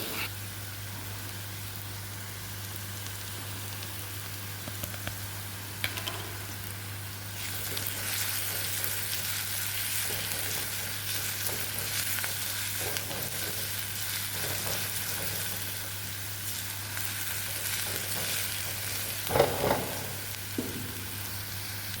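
Sliced onions sautéing in a pan for bread egg upma, a steady close sizzle running throughout with faint scraping from occasional stirring and a brief louder clatter near the end; no talking.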